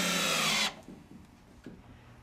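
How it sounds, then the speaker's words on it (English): A power drill drives a 1-inch deck screw into a plywood piece, a loud steady whir for under a second that cuts off abruptly, followed by faint scraping and handling noises. "screw plywood piece C on top using 1-inch deck screws."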